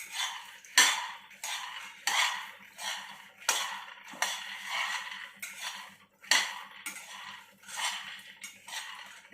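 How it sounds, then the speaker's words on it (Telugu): Peanuts dry-roasting in a pan (bandi) while a metal spatula or spoon scrapes and stirs them in repeated strokes roughly once a second, close and fairly quiet, with no talking. "సో ఒక బాండి తీసుకొని డ్రై రోస్ట్ చేసుకోవాలండి పల్లీలు"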